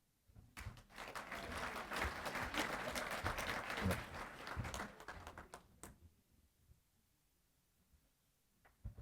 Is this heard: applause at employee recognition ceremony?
yes